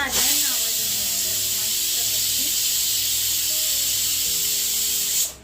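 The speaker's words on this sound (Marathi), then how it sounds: "आमच्या कुकरची शिट्टी होत नव्हती कारण त्याचं गेलं होतं रिंग" A pressure cooker with a new whistle lets out a loud, steady hissing whistle of escaping steam that runs several seconds, with faint voices underneath.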